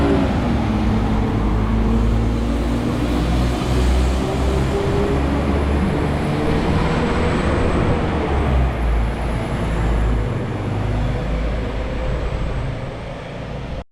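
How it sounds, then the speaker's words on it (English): Class 196 diesel multiple unit 196109 pulling away from Willenhall station toward Birmingham New Street, a loud, steady engine rumble with a rising whine held for about fourteen seconds, close by and without talk. "That is 196109 departing Willenhall, heading for Birmingham New Street."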